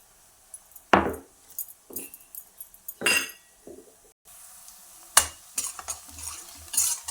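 Cooking sounds from a pan of frying onions as crushed garlic, cumin and chilli paste are added: sharp clinks and scrapes of a spoon stirring, separated by quiet gaps, with a soft sizzle underneath.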